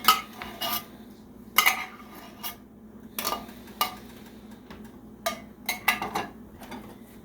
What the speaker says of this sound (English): just stir it up real good, mix it all together